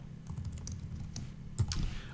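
Typing on a computer keyboard: a quick, irregular run of close, crisp key clicks with a slightly louder tap near the end, and no talking.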